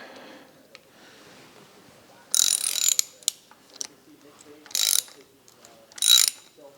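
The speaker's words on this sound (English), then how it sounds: "And tighten things down. All right, we'll go ahead and snug everything up." Ratcheting wrench snugging down bolts during reassembly of a 1972 Dodge Challenger's 440 engine: three distinct bursts of rapid ratchet clicking, separated by quieter pauses and a few light metallic taps, close and fairly loud.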